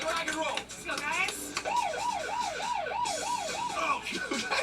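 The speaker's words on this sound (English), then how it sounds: "when the police siren sounds, we have to take these money bags one at a time to the hideout." During a Big Brother veto competition, a police siren wails loudly in a rapid repeating rise-and-fall pattern and overlaps background voices.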